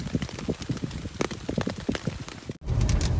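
Steady rain patters on a camp shelter during a bikepacking trip, a dense, continuous hiss with scattered drop taps, close and fairly loud, broken by a brief cut near the end before the rain noise resumes.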